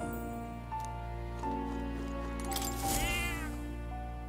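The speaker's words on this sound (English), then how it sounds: "Here, kitty." A cat meows in the video game Metaphor: ReFantazio, a soft mewing call rising over a steady bed of game music and ambience, moderately close and not loud.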